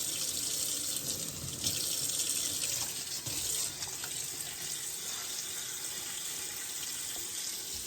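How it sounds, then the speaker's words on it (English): Hot water runs steadily from a kitchen tap over broken-up mozzarella curd, a continuous close splashing stream filling the bowl, heard alone without voices. "We're going to add the hot water just until it covers the top of it."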